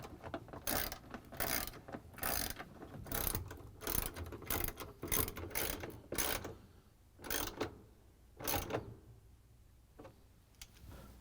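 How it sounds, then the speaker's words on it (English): A ratchet with a 3/8-inch socket and extension drives bolts while remounting a part on a leaking GE washing machine, giving bursts of close, crisp clicking with short pauses between strokes. "we're going to use the 3/8" socket with the ratchet and the extension to put in the bolts"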